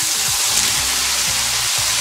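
Razor clams hit hot oil with onion and garlic in a wok, giving a loud, dense, continuous sizzle with a few low scraping thumps underneath.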